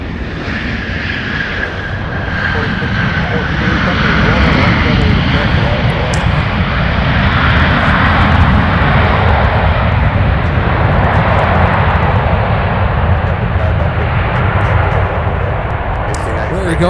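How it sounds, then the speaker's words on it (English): A passenger airplane takes off at MSP airport in Minneapolis–Saint Paul, a loud, broad engine roar that swells over the first few seconds and then holds steady, with voices faintly audible beneath it. "quick takeoff."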